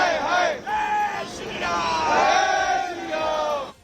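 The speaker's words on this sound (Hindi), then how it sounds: "उन्होंने जमकर नारेबाजी की" Crowd of protesters outside a Bangladesh high commission chanting and yelling slogans in loud rhythmic bursts, many voices rising and falling together with brief gaps.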